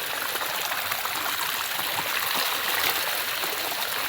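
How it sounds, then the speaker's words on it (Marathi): Steady rushing rainwater flows continuously down a hill footpath, a broad close-up stream trickling and splashing without pause, no voices. "पायवाटालाच पाणी बघा येते वरनं, मस्तपैकी वाहतंय पूर्ण तिकडनं वरनं येते पाणी"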